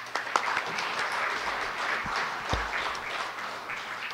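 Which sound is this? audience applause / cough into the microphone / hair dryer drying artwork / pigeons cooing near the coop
audience applause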